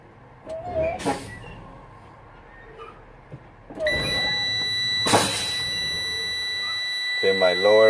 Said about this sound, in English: my lower warning light or buzzer came on 74 psi